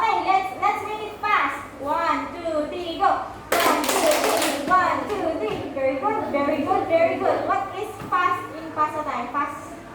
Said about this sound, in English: Three claps.